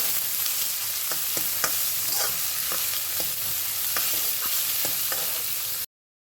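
Chopped onions and garlic fry in hot oil for a Dhaba-style dal fry: a loud, steady sizzle with regular scraping stirs, until it cuts to silence near the end.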